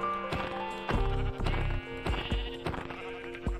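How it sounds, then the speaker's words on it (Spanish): A pink sheep in Minecraft bleats several times with a wavering nasal cry, close and clear over a faint game background. "me encuentro una oveja rosa"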